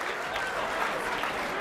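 Dense crowd noise at a PBA Tournament of Champions bowling event, a steady roar of many voices chanting together alongside scattered clapping, loud and continuous throughout with no single voice standing out.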